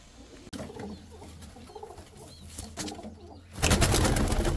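Andhra racing pigeons cooing in a loft, soft repeated coos over a low steady hum, then a louder burst of rustling or wing flutter near the end, no talking.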